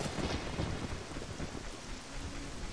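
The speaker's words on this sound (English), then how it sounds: "Oh, it's still raining." Steady rain falls in The Legend of Zelda: Ocarina of Time Master Quest, a dense, continuous hiss with a low rumble beneath it, unbroken and without voices.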